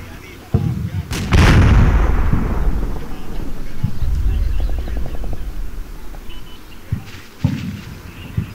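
Artillery fire mission in the Combat Mission: Shock Force video game, a series of heavy, booming blasts and rumbling impacts, one very loud burst early on and more thuds spread through the rest, near and powerful, with no talking.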